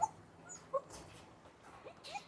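Soft, high whimpers and yips from German Shepherd puppies at a breeding farm, a few brief cries scattered over a quiet background.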